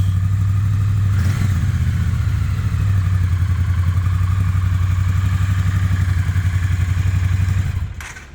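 A Triumph Rocket motorcycle engine runs steadily at close range with a loud low rumble, rising briefly around a throttle blip, then cuts off near the end. No one speaks.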